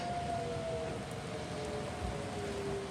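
A tornado warning siren wails steadily outdoors during a severe thunderstorm, its drawn-out tone holding over continuous broadband background noise for the whole stretch, with no talking.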